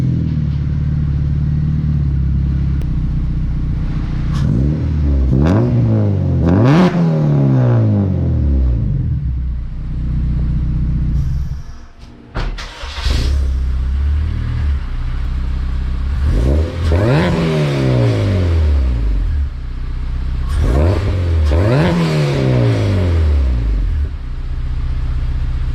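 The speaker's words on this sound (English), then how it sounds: "That is the perfect sound, in my opinion, for an exhaust system." A supercharged Acura RSX revs through its exhaust system, loud and close, rising in several sharp throttle blips that climb and fall back to a deep rumbling idle, with a brief drop-off midway before more revving.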